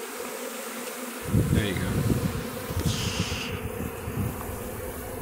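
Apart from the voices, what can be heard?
swarm of bees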